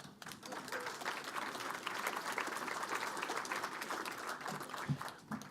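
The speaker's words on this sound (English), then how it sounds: "You guys are a very applause-happy crowd." Audience at an economic development gathering breaking into steady applause, a continuous wash of clapping at moderate distance with a faint murmur of voices underneath.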